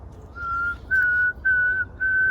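Four clear whistled notes at a steady pitch, the first softer and the rest louder, imitating a saw-whet owl's call.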